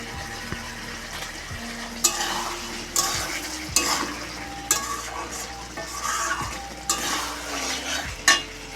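Spatula scraping and stirring soybean dopiyaza with garam masala in a frying pan, a steady sizzle underneath and a series of sharp metallic scrapes and knocks roughly every second, close and clear with no talking.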